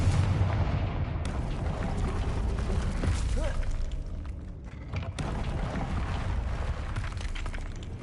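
A Confringo explosive spell blasts in Hogwarts Legacy, a loud booming roar with rumbling that carries steadily through the whole stretch, with a sharp crack partway in.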